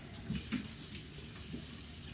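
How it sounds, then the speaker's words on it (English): Water is poured into cocoa waffle mix in a kitchen: a quiet, soft trickle with a few faint splashes and no speech. "And I'm just gonna put in the water."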